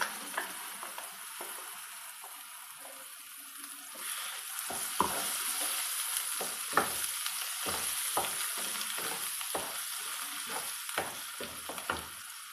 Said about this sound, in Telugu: ఇట్లా పోపు అంతా ఇట్లా వేగినాక మిక్సీ పట్టుకున్న పచ్చడి ఇందులో వేసుకోవాలి.